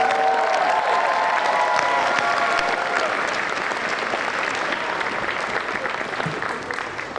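Sustained audience applause at the closing ceremonies of the San Japan 16 anime convention, honoring the guests: a dense, loud wash of clapping that holds steady and tapers slightly toward the end.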